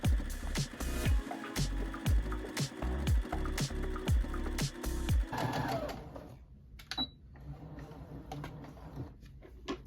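A sewing machine stitches rag quilt fabric in quick bursts of close mechanical clatter for about five seconds, then stops, leaving faint handling sounds and quiet clicks.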